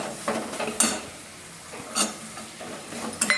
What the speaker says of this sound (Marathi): बटाटा पण तेलामध्ये छान असा मिक्स करून घ्यायचा